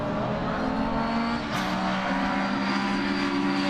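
Retro rallycross cars, a Mark 2 Escort and a Metro 6R4, race at Pembrey with engines roaring steadily at high revs, close and loud, with a brief swell as a car passes.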